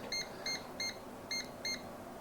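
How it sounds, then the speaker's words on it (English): A laser level beeps while self-leveling after being switched on: five short, evenly spaced electronic beeps, fairly quiet, over a faint background hum with nobody speaking. "it'll beep when it's trying to level, if it's not level"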